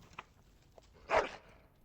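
A dog in the video game Dragon Age: Origins gives a single short bark near the end, faint, with a softer yip or two before it in quiet surroundings.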